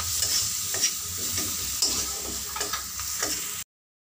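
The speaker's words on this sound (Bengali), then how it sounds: "আমি পেঁয়াজের মধ্যে কুমড়োর টুকরোগুলোকে সব দিয়ে দিলাম, দিয়ে এবার এটাকে আমি ভালো করে কষে নেব" Pumpkin pieces and onion, seasoned with salt and turmeric, are stir-fried in a pan: a close, steady sizzle with repeated scraping stirs of a spatula at an even pace, then sudden silence near the end, no voices.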